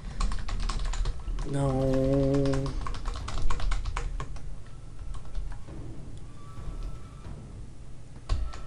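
Computer keyboard keys are tapped in quick, irregular bursts while someone plays Dead Space on PC; a voice speaks briefly over the clicking.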